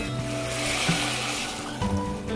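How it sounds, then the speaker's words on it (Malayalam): Water pours into a pot of oil-roasted rice with cumin and green chilies, two cups of water to one cup of rice, as a close, rushing hiss with a couple of splashy bumps. "1 കപ്പ് അരിക്ക് 2 കപ്പ് വെള്ളമാണ് ഒഴിക്കുന്നത്"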